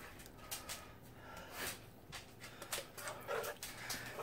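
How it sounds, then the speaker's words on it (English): A pet dog snuffs and sniffs at a kitchen smell in short, quick breathy bursts, fairly close and faint, with no talking. "my dog is snuffing over there."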